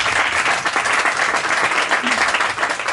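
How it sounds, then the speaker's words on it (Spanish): Audience applause at a book presentation, dense continuous clapping from a crowd filling the whole short clip, with no talk over it. "un aplauso para recibir a Gloria."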